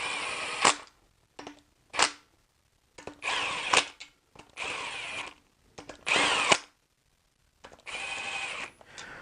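A power driver runs down bolts on a BMW E46 M54 engine during reassembly, sounding as several loud, separate bursts of whirring and rattling with short pauses between them, close up and alone.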